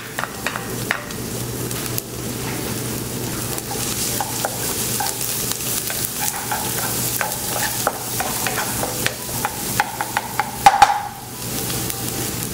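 Minced garlic frying in a spoonful of salad oil gives a close, steady sizzle, with frequent sharp clicks and scraping stirs and a brief cluster of clinks near the end.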